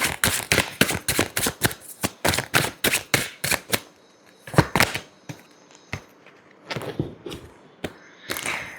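Tarot cards are shuffled close by in quick riffling flurries of crisp slaps and flicks, first in a rapid run and then in sparser, separate bursts.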